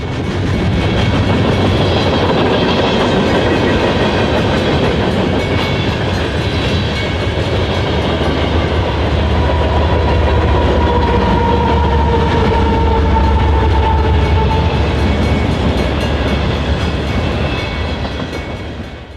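A long freight train with an ES44AC locomotive and a mid-train ES44AC DPU rolls past in the morning at Delray Junction, Detroit. The rumble and wheel clatter stay loud and steady, close by, with no voices.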